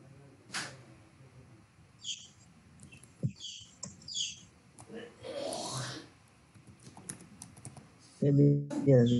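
Someone types a name on a computer keyboard, with scattered light clicks and taps in short bursts, quiet and near, while a voice talks over parts of it.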